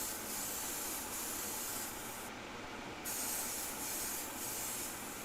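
Steady broadband hiss of an airbrush laying a slow final coat of Timbertech paint, continuous and fairly close, with one brief dip where the spray eases off before resuming.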